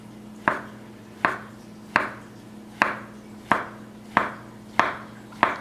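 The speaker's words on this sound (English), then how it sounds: "we're going to slice the portobello mushrooms. We're going to slice them very thin" A knife slicing portobello mushrooms very thin on a cutting board, eight crisp evenly spaced chops at a steady unhurried rhythm, close and clear with no talking.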